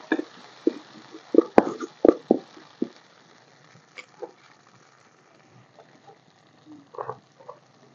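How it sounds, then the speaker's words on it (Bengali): Garlic, chili paste and spices sizzle and spatter in hot oil for Rupchanda fish curry, with irregular sharp crackles and pops, busy at first and then sparser and fainter. "তেল কি গরম হয়েছে, ছিটকি পড়ে।"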